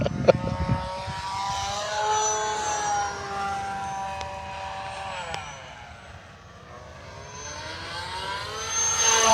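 An FMS P-51D V2 800mm RC model warbird flies on a 3S battery, its electric motor and propeller whine rising and falling in pitch as the plane passes at varying distance, steady throughout with a louder swell near the end.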